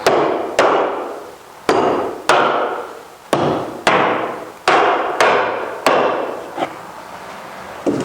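Hammer pulling out nails from wooden window framing: about nine sharp, close blows at an uneven pace, each ringing briefly before the next, with no talking.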